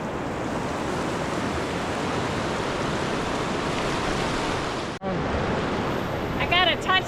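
Broad, steady rushing of the Colorado River at the bottom of the Grand Canyon near a confluence, continuous and fairly loud, with a brief dip and some faint higher chirps or voices near the end.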